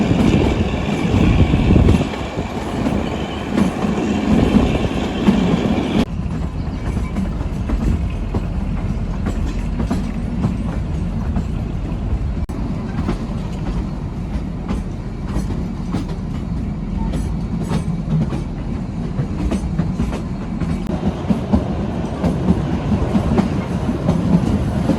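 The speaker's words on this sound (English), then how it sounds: "It's a pretty slow train." A train rumbles along steadily at low speed, wheels clacking rhythmically over the rails with a constant heavy drone throughout.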